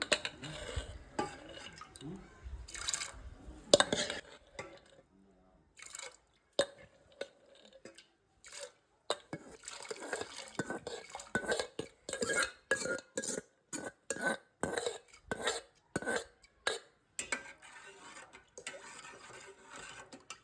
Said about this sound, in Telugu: ఇప్పుడు ఈ వాటర్లోకి నేను డ్రైన్ చేసి పెట్టుకున్నాను కదండి, ఆ సగ్గుబియ్యం వేస్తున్నాను